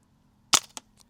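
A single sharp gunshot cracks out at a shooting target, loud and close, followed by a quick fainter echo or click a moment later, with no talking.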